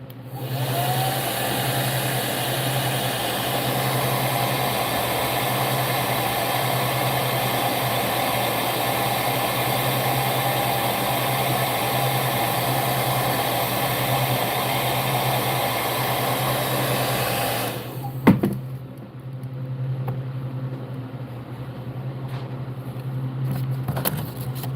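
A heat gun blows steadily for about eighteen seconds, heat-setting freshly airbrushed paint lines on a realistic largemouth bass, a loud continuous whooshing hum that cuts off abruptly, followed by quieter room noise.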